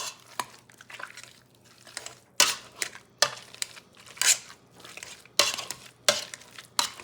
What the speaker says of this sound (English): let's go ahead and get to mashing